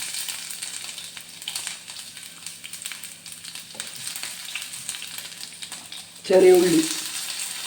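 Ginger frying in coconut oil for a beef and chickpea curry, a soft, steady close crackling sizzle with light stirring, a louder burst of spitting near the end, and a brief spoken word.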